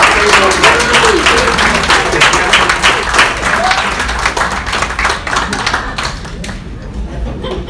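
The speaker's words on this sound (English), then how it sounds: "everybody give him a round of applause" A live mentalist show audience breaks into steady applause, dense crowd clapping filling the room at full volume, with a voice briefly heard over it before it thins out.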